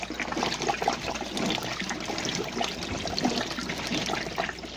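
Clothes sloshing and churning in water inside a homemade 5-gallon bucket washing machine, a close, continuous watery swish with splashy trickles, no talking.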